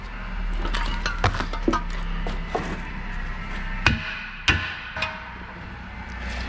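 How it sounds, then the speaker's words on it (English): Sharp metallic hammer strikes ring out irregularly as an old ball joint is hammered out of a car's suspension, a dozen or so hits of varying force over a low steady background hum. "Now I'm just gonna hammer the shit out of this until it pops out this way"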